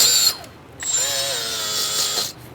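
A power tool whines as it sands the surface of a brake rotor on a 2014–2018 Subaru Forester, in short bursts with changing pitch as it spins up and loads against the metal.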